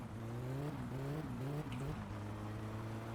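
A car in the video game My Summer Car revs as its tires spin, with a buzzing engine tone climbing and dropping in pitch over a couple of seconds before settling into a steady drone.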